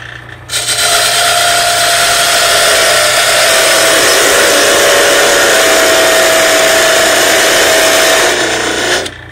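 A parting tool cuts into a spinning wooden tool handle on a lathe, giving a steady, loud, sustained scraping whine that starts abruptly and holds evenly for several seconds before stopping.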